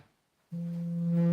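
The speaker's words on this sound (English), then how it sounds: "Phone ringing." A phone rings indoors during a chat about crafting a Rohan model building, a steady electronic tone starting abruptly partway through and holding loud to the end, with no talk over it.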